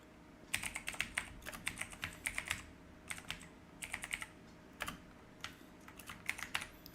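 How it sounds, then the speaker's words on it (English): Typing on a computer keyboard, with bursts of quick, close clicking keystrokes separated by short pauses over a faint background hum. "I'm just typing in all the names so they can appear at the top."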